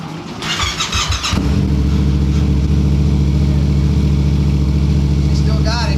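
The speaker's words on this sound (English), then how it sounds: "We ain't fired this bike up in a while." A Yamaha FZ-07 motorcycle, unridden for a while and being rebuilt after a crash, cranks and fires up, then settles into a loud, steady close-up idle with a deep throbbing drone that runs to the end.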